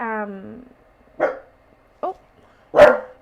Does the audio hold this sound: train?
no